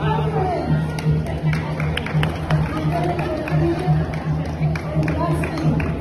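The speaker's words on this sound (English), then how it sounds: "Clap your hands." Audience at an AAPI community event in a recreation center clapping hands together, a sustained patter of many claps with some murmuring and a steady low hum underneath, no speech over it.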